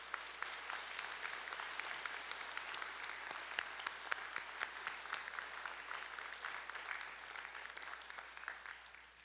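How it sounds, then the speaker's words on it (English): Audience applause at a doctoral hooding ceremony for PhD candidates, sustained steady clapping from a large crowd lasting throughout, fairly distant and even with scattered louder claps. "Please join me in giving a round of applause to this distinguished group."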